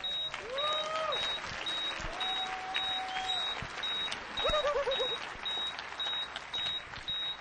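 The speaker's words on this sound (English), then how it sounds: "Give them a round of applause" Hacker-conference audience at DefCon 16 breaks into sustained applause filling the room, overlaid by a steady repeating electronic beep and a few short warbling electronic tones.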